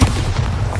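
A Bombarda blasting spell going off in Hogwarts Legacy, a short heavy boom with a dense low rumble that fills the whole moment, loud and close, with no voices.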